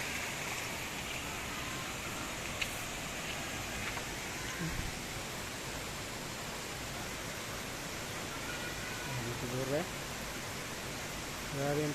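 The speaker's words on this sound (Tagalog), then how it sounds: "Nani yang tubig gikan sa tubod oh." Spring water pours into a stream at Binalew, Clarin, a steady broadband rush of flowing water that fills the whole stretch, with faint voices speaking and a few light knocks under it.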